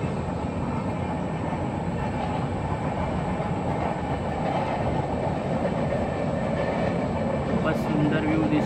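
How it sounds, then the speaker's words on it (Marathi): A train runs past a house in the Konkan, heard from a balcony above as a steady, loud rumble with a rhythmic clatter of wheels on rails that lasts throughout. "ट्रेनचा आवाज आलाय आणि ट्रेन दिसते ती बघा"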